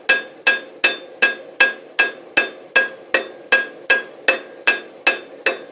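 A blacksmith hammers red-hot metal flat to shape a small spoon or platter, with about a dozen evenly spaced, ringing hammer blows on the anvil, close and loud, with no talk.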